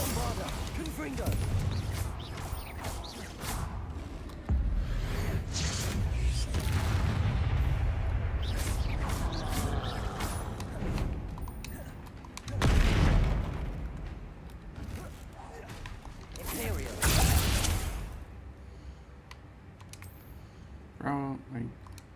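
Bombarda and Confringo spell blasts from Hogwarts Legacy rumble through dense game effects, with heavy bursts around the middle and near the end while someone talks over them.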